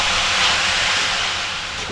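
Fenugreek leaves sautéing in a pan over low heat, a steady loud sizzling hiss that eases slightly toward the end, with no talk.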